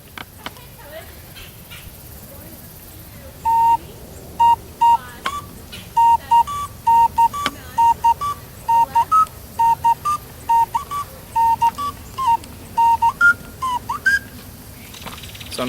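A series of clear, breathy notes from the second chamber of a multi-chambered ocarina, played in a steady melodic sequence, bright and close, with a quiet room hiss underneath.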